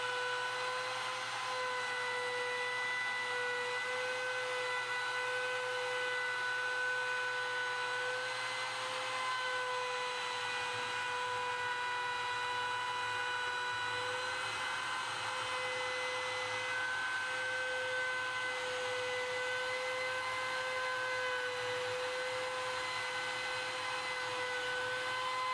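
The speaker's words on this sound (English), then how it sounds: "Plunge the router down and run the bushing tight against the template, moving in a clockwise motion" A plunge router with a SignCrafter template and guide bushing cuts a sign, its motor holding a steady high whine with a constant tonal hum as the bit routes along the template.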